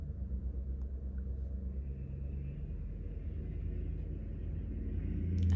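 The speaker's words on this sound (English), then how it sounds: "I'm sorry if you can hear the loud car outside." A car passes outside, heard as a low, continuous rumble that swells gradually louder toward the end, muffled and fairly quiet, with no voices.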